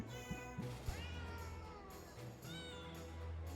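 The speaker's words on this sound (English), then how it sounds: "I just heard the meows in the background music." Cat meows woven into the background music of the Potionomics video game, several soft rising mews over a continuous musical bed, fairly faint.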